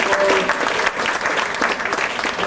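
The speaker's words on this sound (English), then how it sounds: "Marguerite wants us to applaud for Donna Sanders" Sustained applause from a room full of people honoring Donna Sanders at a 1997 gathering, dense steady clapping throughout with a few cheers mixed in.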